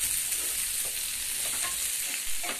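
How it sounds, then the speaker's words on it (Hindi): Paneer tikka roasting in a pan over a medium-low flame gives a steady, close, even sizzle with faint stirring scrapes throughout, and no voices. "दोनों को सेकेंगे एकदम मीडियम लो फ्लेम कर दिए हैं और इसे सेक रहे हैं"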